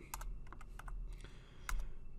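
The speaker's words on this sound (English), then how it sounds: "I hit escape on the keyboard" Several crisp key presses on a computer keyboard during Autodesk Fusion 360 modelling work, scattered taps in an uneven rhythm, close and fairly quiet with no talking.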